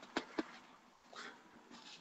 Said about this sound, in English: She's just barking at some stuff.